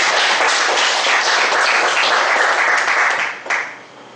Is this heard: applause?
yes